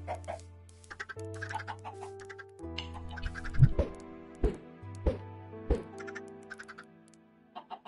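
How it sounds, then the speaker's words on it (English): Chickens in the video game Minecraft cluck in short repeated bursts over a backdrop of game music, with a few sharper clicks and thumps mixed in. "Damn, why are these chickens taking so long to grow up?"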